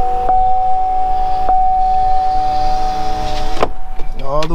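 Power window motor on a non-running 2006 Pontiac Torrent, a steady electric whine running for several seconds close by, then stopping with a thunk as the glass seats, followed by another brief motor burst.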